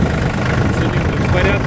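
Yanmar FX22D mini tractor with a front loader, its diesel engine running at a steady idle, a continuous low rumble close by with no other sounds over it.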